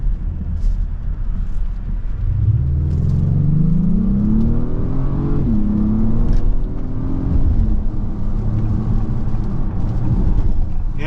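A 2024 Acura MDX Type S accelerates hard from inside the cabin, its engine note rising steadily through a gear change and climbing again, loud and continuous.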